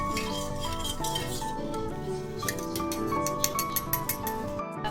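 Methi muthiya ingredients are mixed in a bowl, giving soft scraping stirs and light clinks of a spoon against the bowl, faint and close, followed by a run of quick taps near the end.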